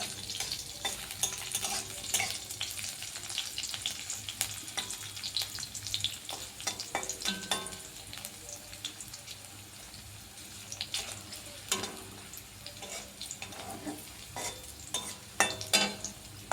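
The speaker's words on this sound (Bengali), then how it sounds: "এগুলো হালকাভাবে একটু হালকা আঁচে একটু একটু নাড়িয়ে নেবো" Chopped garlic stirred gently in a pan over low heat for momos, a soft steady sizzle with scraping stir strokes and occasional clinks, close and alone with no talk.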